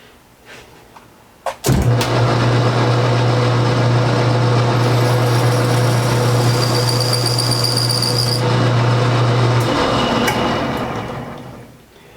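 A lathe spins up and runs while a radius turning tool cuts a concave radius, a loud steady motor hum with a bright high whine through most of the stretch before winding down.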